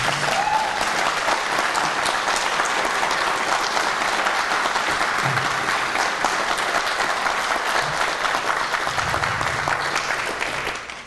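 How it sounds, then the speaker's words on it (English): A large audience at an all-candidates meeting gives sustained, loud applause for federal election candidates, a dense and even wash of clapping that holds steady throughout and fades slightly at the end. "Would you give them a big round of applause?"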